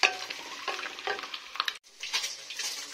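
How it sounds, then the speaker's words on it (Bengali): Eggs fry in hot oil for a Bengali egg curry, a close, steady sizzle with stirring and spatula scrapes, briefly cut off near the middle before the crackling resumes, with no speech. "ওদিকে ডিমগুলো ভাজা হচ্ছে"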